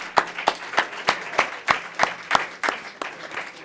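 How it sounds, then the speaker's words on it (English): Rhythmic, evenly spaced hand claps from a small audience at a city's State of the City address, each clap sharp and distinct with a steady beat and no voices. "One more round of applause."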